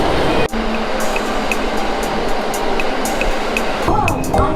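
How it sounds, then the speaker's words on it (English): Train arriving at a station in the Nara and Osaka area, with a steady loud rumble, rhythmic clacks and a squeal near the end, under talk. "And here's our train now."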